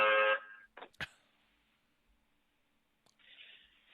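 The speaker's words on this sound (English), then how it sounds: "got a stupid alarm on my van" A van's alarm goes off in short bursts, a harsh buzzing tone, then a couple of sharp clicks and a quiet gap before the buzzing returns.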